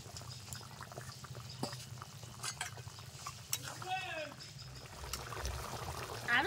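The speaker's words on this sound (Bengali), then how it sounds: "আর এখন এই পেঁয়াজগুলো দিয়ে দেব।" Sliced onions are added and stirred into a shrimp and green jackfruit curry cooking in a pan, with soft scraping stirs and a low sizzle, close but quiet, as someone speaks over it.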